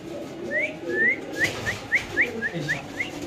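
A pair of pigeons gives a rapid series of short rising whistled calls, about nine in three seconds, close and moderately loud over low background rumble.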